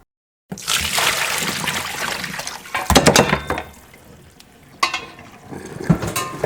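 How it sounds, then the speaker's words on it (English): Turkey wing bones simmering in a pot of water give off a steady bubbling, stirring churn, with a few louder clattering splashes around the middle and near the end. "So let it simmer another hour or so."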